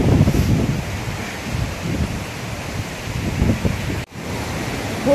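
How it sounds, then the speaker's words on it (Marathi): Heavy rain pours near a waterfall at Bhandardara as a steady, close, broadband roar with gusty wind buffeting on the microphone and a brief dropout near the end. "खूप पाऊस लागलाय. आम्ही भिजलोय सगळे."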